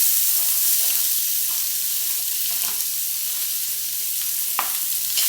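Onions with ginger and garlic sizzle steadily in a hot pan, a loud continuous frying hiss with a few faint scrapes and clicks and no talking.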